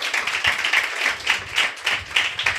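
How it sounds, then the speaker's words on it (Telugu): A church congregation at a Sunday service claps hands together in a loud, rhythmic beat, regular pulses repeating steadily across the whole stretch. "చప్పట్లు కొట్టి ప్రభుని కనపడదాం."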